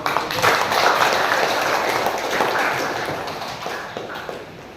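A classroom group claps for group 3 after their presentation on making compost fertilizer, a dense and steady burst of hand claps close by that thins out slightly toward the end.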